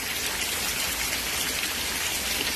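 Steady summer rain falls on grass, a dense, even hiss of drops that holds at the same level throughout with no talk or other sounds.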